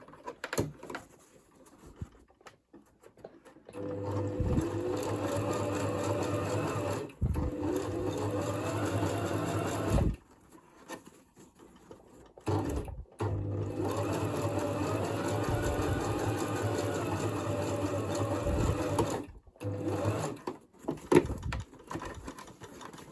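A sewing machine stitches through a thick, many-layered 640 gsm RagMask, running in steady bursts of a few seconds each with short pauses between them.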